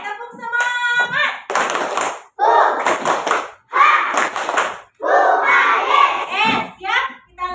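Group of teachers and students doing a rhythmic clapping routine, tepuk semangat, at a school session: bursts of patterned hand claps with shouted chanting voices in between, loud and close, about five sections across the clip.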